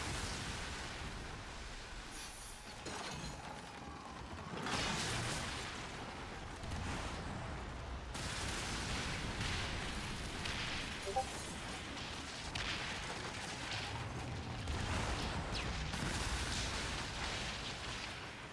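Naval bombard cannons firing and shells exploding during a ship battle in Skull and Bones, a steady barrage of booms and crackling blasts that continues densely for the whole stretch, with no voices.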